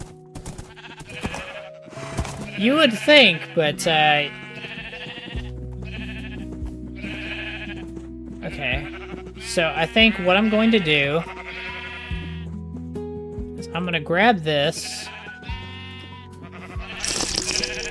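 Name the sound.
sheep bleating in Minecraft (video game)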